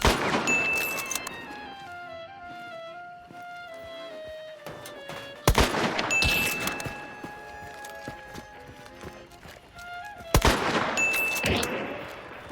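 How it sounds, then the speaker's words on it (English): Rifle fire in the video game Hunt: Showdown: two sharp, loud shots spaced several seconds apart ring out over tonal in-game ambience and scattered clatter. "Here, you can see me constantly whiffing my rifle shots."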